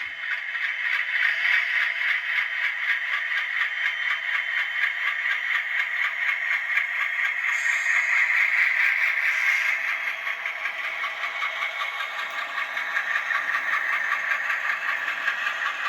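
An HO scale Bowser ALCO C628 model diesel locomotive backs up along the track with a steady, close metallic scraping rattle and a whining mechanical hum, holding constant for the whole stretch without pauses or voices.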